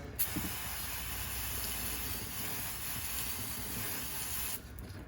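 Brake cleaner sprayed onto a HMMWV geared hub from an aerosol can, one continuous loud hiss lasting about four seconds, close up, starting and stopping abruptly, with no speech.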